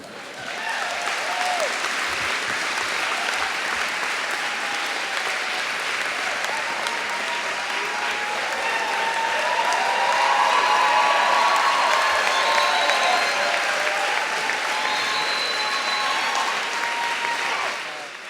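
Sustained applause from a large audience at a public policy graduate programs graduation ceremony, a dense, even roar of clapping that swells toward the middle and continues for the whole stretch with faint cheers mixed in.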